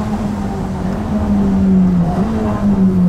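A classic sports car engine revs loudly and steadily at close range, its pitch rising and dipping slightly as the throttle is worked.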